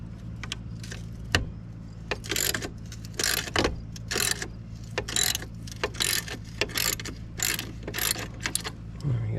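A ratchet wrench works on bolts of a 2002 Polaris Trail Boss 325 ATV, giving close, rapid clicking bursts in repeated strokes with brief pauses between them.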